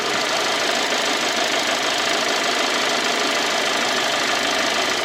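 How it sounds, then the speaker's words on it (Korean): A used car's engine idles steadily and evenly with a broadband mechanical hum and no change in pitch or loudness throughout, recorded up close. "엔진 소리 한번 들어보겠습니다."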